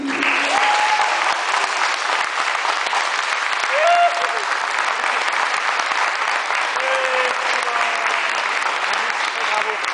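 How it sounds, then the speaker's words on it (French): Wedding guests at Mel and Damien's 2010 ceremony applaud the couple, a dense, sustained burst of clapping from a crowd that continues throughout, with a few voices calling out faintly over it. "On peut les applaudir"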